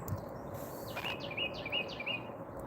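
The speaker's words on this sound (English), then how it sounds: "there is a ton of cardinals out here," Several bright birdsong phrases from cardinals outdoors, three or four short sweeping whistles repeating at a steady pace in the middle distance over a constant low ambient hiss.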